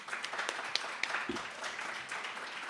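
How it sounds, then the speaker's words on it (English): Audience applause at a law school symposium panel, a steady, moderate wash of clapping with a few sharper individual claps standing out, continuous through the short stretch. "Please give them a round of applause."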